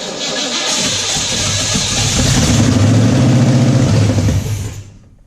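A V8 engine swapped into a Mazda RX7 fires up and runs, a loud, close, rough rumble that climbs into a heavier throbbing idle and then cuts off abruptly near the end.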